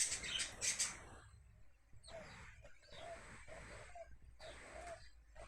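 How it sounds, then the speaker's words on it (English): Small birds chirp and tweet in short bursts around a pigeon and a cockatoo, a brighter flurry at the start and then scattered calls over a low background hum. "we've got a cheeky pigeon running around, and we've had a cheeky cocky"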